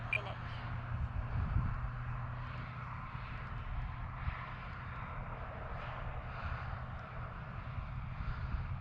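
An Easy Habu RC model plane comes in on a crosswind landing approach, giving a steady, fairly faint whirring drone mixed with wind-like rushing noise that holds evenly throughout.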